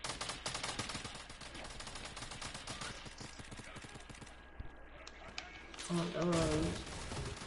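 Sniper gunfire in a multiplayer video game, sharp shots and rapid bursts cracking through a busy mix while players chat over voice, a voice briefly speaking near the end.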